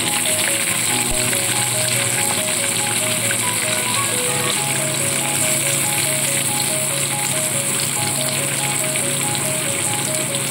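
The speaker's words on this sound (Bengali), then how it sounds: "আর প্রথমে আমি ক্যাপসিকামগুলো তেলের মধ্যে দিয়ে দেবো।" Capsicum hits hot oil in a pan for an egg chicken roll, a loud continuous close-up sizzle and crackle that holds steady throughout with no talking.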